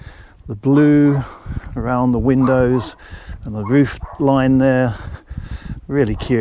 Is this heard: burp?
no